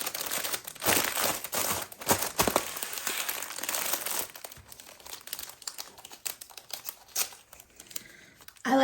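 A small mystery bag with a flamingo sticker being sealed for shipping, with loud close plastic crinkling and rustling at first, then quieter handling crackles and taps.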